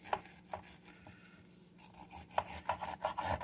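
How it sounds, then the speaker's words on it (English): Knife cutting spare ribs along the bone while trimming them to St. Louis style, close scraping and sawing strokes in irregular bursts with a quieter pause midway, then quicker rasping cuts. "Once you find that hard bone right there, you want to start cutting."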